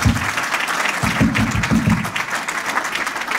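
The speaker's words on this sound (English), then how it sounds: "please allow me a round of applause, not just for Sam, but for all the presenters" Audience applause for a group of presenters at an alumni hall of fame ceremony, a dense steady clapping from a sizable crowd that holds for the whole stretch without voices.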